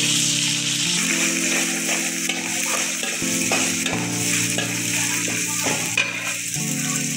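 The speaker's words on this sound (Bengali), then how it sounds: "মরিচ পেঁয়াজের সাথে শুটকিটাও এখানে একটু ভাজা ভাজা হোক।" Dried fish fries with chili, onion, ginger and garlic in a pan, a loud steady sizzle under scraping stirs, with a tonal hum running beneath.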